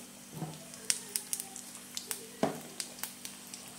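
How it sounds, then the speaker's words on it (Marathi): Chana dal and urad dal with cumin and mustard seeds frying in oil, a faint steady sizzle broken by small crackling pops and a couple of stirring clinks, with no voice. "तर आपल्याला हे चांगलं फ्राय करून घ्यायचं आहे आधी"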